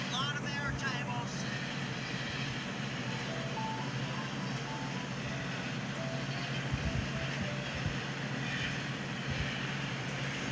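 A long eastbound CSX freight train carrying autoracks, intermodal stacks and many empty baretable cars rolls past at close range, a steady unbroken rumble with rail noise for the whole stretch and a few low thumps from the wheels.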